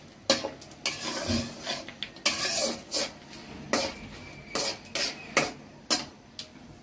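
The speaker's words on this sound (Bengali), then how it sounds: "গোটা গরম মশলা এটা একটু ই করে ভাজা ভাজা করে তারপর আমি পেঁয়াজ কুচি দিয়ে দিলাম।" Whole spices and chopped onion frying in a pan and being stirred, with a series of sharp scraping and clattering hits of a utensil against cookware at an uneven pace, close and moderately loud, with no voices.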